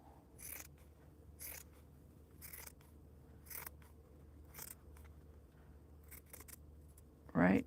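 Scissors cut through a sweatshirt in quiet, sharp snips spaced a second or so apart over a low background hiss, ending with a louder thump.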